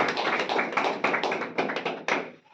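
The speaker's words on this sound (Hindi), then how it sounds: "और एक बार जोरदार तालियां सर के शानदार तरीके से क्रूज टारगेट के लिए" Short bursts of clapping from a small group at a celebration for reaching a Cordelia cruise sales target, close and uneven for about two seconds before tapering off.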